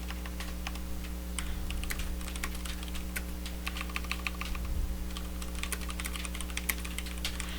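Steady clicking of a computer keyboard as code comments are typed, with fast irregular keystrokes over a constant low electrical hum, close and moderately loud, no voices.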